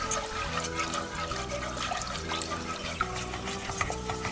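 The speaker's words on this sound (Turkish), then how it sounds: "Un kavruldu şimdi soğuk sütümüzü ekliyoruz" Cold milk poured into toasted flour for a baked pumpkin soup, a steady, close liquid pour with a bubbling, sizzling texture that continues without pause and has no talking.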